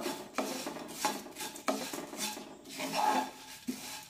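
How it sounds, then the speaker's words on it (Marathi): Dry poha flakes being stirred and roasted in a pan on low heat, with a spoon scraping and rasping against the metal in uneven strokes, close and clear, with no voices. "हे पोहे सतत परतत राहायचे, म्हणजे मग ते सगळीकडून एकसारखे अगदी व्यवस्थित भाजले जातात।"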